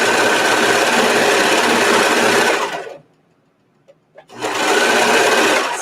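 Serger sewing machine trimming the edge of fabric, running in a loud steady whir for about three seconds, stopping briefly with a couple of faint clicks, then starting again just as loudly.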